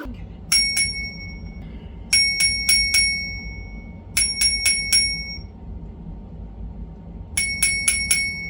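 A bicycle bell mounted on a trike's handlebar rings in four bursts of rapid, bright metallic dings, each burst three to five strikes, ringing close and clear over a faint low background hum.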